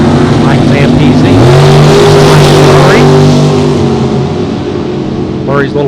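Murray's small pickup truck races down a drag strip. A loud, close engine roar holds throughout, its pitch climbing steadily as the truck accelerates hard.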